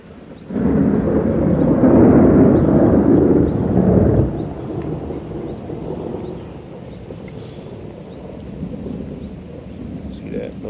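A thunderstorm with a loud, close roll of thunder over steady rain, fading after a few seconds into continuous rainfall and wind noise.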